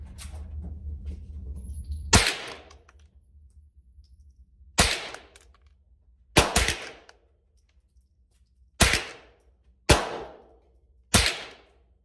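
A Thompson Center T/CR22 .22 rifle fires Remington range ammunition: six sharp, loud reports at uneven intervals, with a faint low hum before the first shot and quiet gaps between shots.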